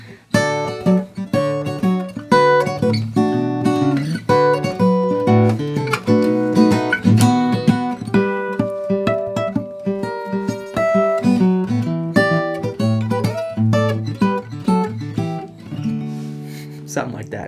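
Fingerstyle guitar plays the C section of a song, with a walking bass line under plucked chords and melody, close and even throughout with no voices.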